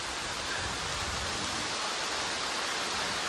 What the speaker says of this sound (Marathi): खूप जोरात पाऊस आलेला आहे असं वाटायला लागलंय.